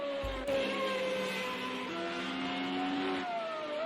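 Several race cars in a video game sweep through a corner of the Austria circuit at night, engines droning and shifting pitch as they pass. The sound is loud and steady, with a brief thump near the start.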